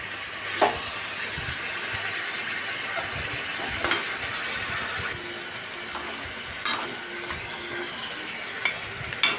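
Chicken curry frying in a pan gives off a steady sizzle, with occasional knocks and scrapes as it is stirred, close and fairly loud, with no talk.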